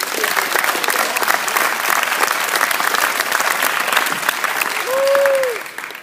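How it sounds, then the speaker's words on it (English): A crowd applauds a third-place award winner at a quarterback and receiver showcase ceremony, dense continuous clapping at close range with a brief whistle-like tone near the end as the applause fades. "Give Zaki a big round of applause."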